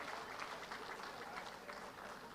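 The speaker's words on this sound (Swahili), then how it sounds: "Makofi, makofi, makofi," Steady applause from a crowd greeting minister Florence Bore at a public event in Meru, continuous rapid clapping throughout with people's voices mixed underneath.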